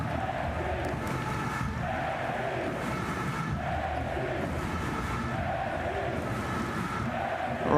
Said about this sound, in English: the crowd are on their feet and chanting their hearts out for the home team